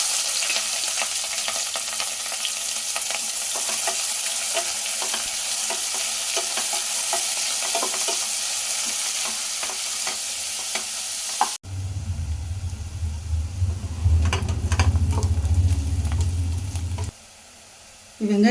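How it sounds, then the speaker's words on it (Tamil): Chopped onions fry until golden for a seeraga samba biryani: a loud, dense sizzle with frequent stirring scrapes. It cuts abruptly to a lower rumbling hiss, then a short silence. "வெங்காயம் நல்லா கோல்டன் கலராக வதங்கிருச்சு"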